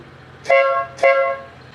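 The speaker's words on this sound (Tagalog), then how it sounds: "yung busina natin, ayos pa rin naman. Still, same horn." Two short honks from a Euro Samurai 155i motorcycle horn, evenly spaced and loud, each a bright, buzzy tone.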